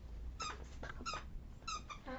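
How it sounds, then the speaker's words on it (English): A dog works a squeaky toy, producing a string of short, uneven squeaks in quick bursts, faint and somewhat muffled in a quiet indoor room. "That's the squeak of her toy."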